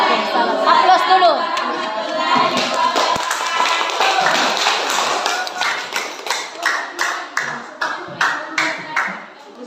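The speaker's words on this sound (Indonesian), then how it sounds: "Aplaus dulu." Applause after a group's coaching presentation at an Indonesian school session, starting as scattered hand claps among murmuring voices and settling into a steady rhythmic clapping that repeats in even pulses toward the end.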